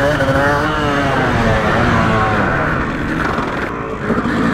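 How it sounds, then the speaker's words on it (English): A Yamaha YZ250 two-stroke motocross bike ridden on an MX track, a loud, close engine note rising and falling in pitch as the rider works the throttle through gears, with wind noise. "That guy on YZ250 is super fast."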